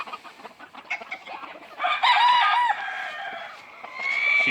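Buff Columbian hens with one copy of dominant white cluck and call in a farmyard, several birds close by with a rising, drawn-out squawk in the middle; no talking.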